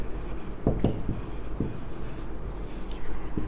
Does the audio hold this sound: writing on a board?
yes